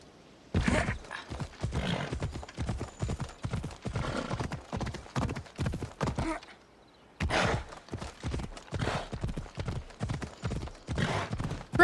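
Horse hooves galloping in the video game Assassin's Creed Odyssey, a fast steady clip-clop rhythm close up, broken by a brief pause before the stride resumes.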